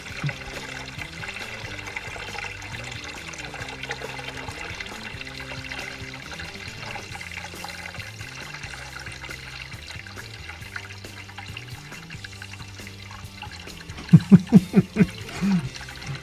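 Water drains and trickles steadily into a bucket from a 1964 Ford Falcon Futura for a long stretch, with a few brief louder bursts near the end.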